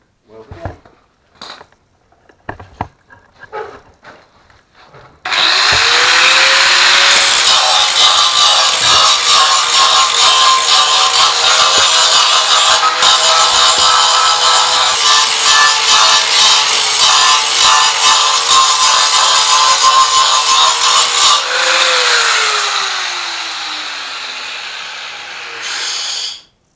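A grinder works a weld on a metal LS engine start stand, a loud steady whine with a rough abrasive rasp that holds for about fifteen seconds before winding down, after a few scattered clanks and taps.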